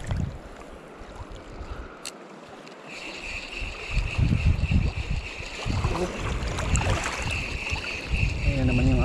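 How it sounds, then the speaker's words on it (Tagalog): Large sea waves wash and slap around a small fishing boat on a snapper fishing trip, with wind noise and surging water that grows louder and rougher partway through. "Ayan naman yung alon. Magbabadya na naman. Ah, laki. Laki ng alon."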